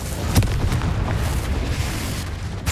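Incendio fire spell blast in Hogwarts Legacy, a continuous rumbling, booming roar with sharp crackling bursts throughout, loud and close.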